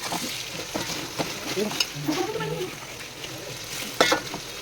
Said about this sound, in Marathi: कांदा टोमॅटो परतून घेतो आपण